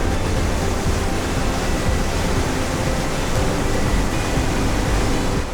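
Lower falls of a canyon waterfall in a Canadian national park, a steady, dense roar of rushing water heard up close and loud throughout, with no pauses.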